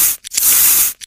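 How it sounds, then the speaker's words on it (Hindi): Medicine spray bottle in an animated ASMR treatment, several short hissing sprays followed by one long close spray burst and a final quick puff, loud and crisp. "अभी इसके माउथ में है हम लोग स्प्रे का दवा मारेंगे।"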